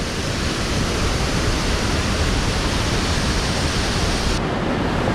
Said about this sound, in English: that's the first waterfall that we'll meet as we come in the gate